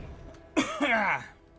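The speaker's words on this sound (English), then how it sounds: "Cough." A brief, single cough from a character in a fantasy video game, a short rough burst that is quiet and close.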